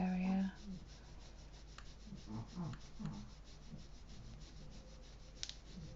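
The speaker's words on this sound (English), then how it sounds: "So I need to make sure I've rubbed that into the graphite very well around this area." Pencil graphite being rubbed and blended on paper for a dog drawing, a quiet, close, uneven scratching and rubbing that comes in short strokes with faint background hum.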